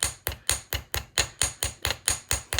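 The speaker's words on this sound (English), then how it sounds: "You just take your ball peen and you're going more on the edge." A ball peen hammer strikes the edge of a wire-wrapped beaded bangle in a quick, even series of about eleven sharp, close metallic taps.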